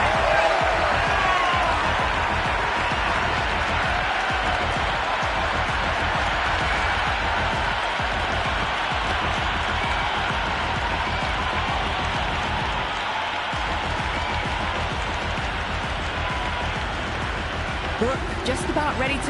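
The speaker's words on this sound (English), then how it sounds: "Will you listen to that crowd? They are loving this." Stadium crowd in the Cricket 26 video game on PS5, Australia versus England T20, a steady loud roar of cheering and applause filling the whole stretch, with commentary voices over it.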